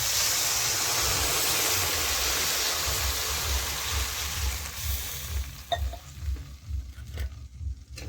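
Water pours in a loud, steady rush into a cooking pot of spinach curry with shingi fish. It trails off into quieter sizzling and a few clinks near the end.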